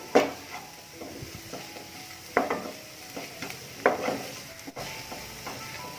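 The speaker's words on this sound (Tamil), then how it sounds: "ஸோ இதோட பச்சை வாசம் எல்லாம் போகிற வரைக்கும் நல்லா வேக விட்டு எடுக்கணும்." Garlic cooking in a pan with oil, a soft close sizzle broken by several sharp scraping stirs of a spoon against metal at irregular intervals, with no voices.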